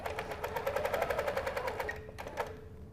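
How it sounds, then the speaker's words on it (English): A sewing machine fitted with a 360 Wonderfoot hopping foot stitches horizontally across a quilt. It gives a fast, even, close mechanical chatter that pauses briefly, then resumes. "and then I'm ready to sew"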